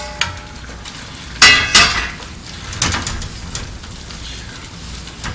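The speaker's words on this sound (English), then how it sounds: "And then we're going to add the mushrooms, stir them around." Mushrooms stirred in a pan for a Vermont dish, a few sharp clinks and scrapes of a utensil against the pan, irregular and close, over a low background of cooking noise.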